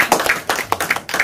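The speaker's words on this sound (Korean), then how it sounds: "큰 박수 올리겠습니다" Brief clapping from a small audience at the closing of a filmmaking class, a few sharp, close claps in quick succession.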